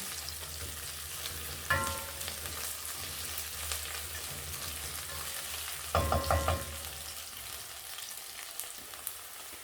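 Cabbage mixture with a chicken stock cube frying in a pan, a quiet constant sizzle broken by two bursts of spoon scraping and stirring against the pot.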